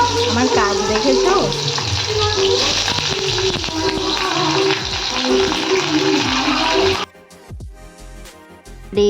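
Oil sizzles and fries in a wok on a home kitchen stove: a loud, steady, close hiss runs for about seven seconds, then cuts off abruptly, leaving quieter clinks and faint room sounds.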